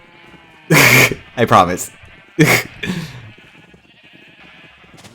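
Sheep in Minecraft bleat in a few short, loud bursts between stretches of a player talking, followed by a quieter tail of game ambience.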